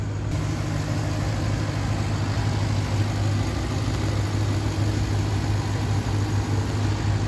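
A 2022 Audi RSQ8 twin turbo V8 idles with a steady, low, even rumble that holds unchanged throughout, close by and with no talking.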